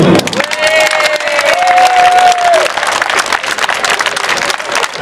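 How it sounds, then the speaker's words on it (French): Crowd at a Paris street demonstration supporting French Guiana claps and cheers in a dense, continuous burst, loud and close, with a whistle-like tone early on and voices mixed into the noise. "applaudissez."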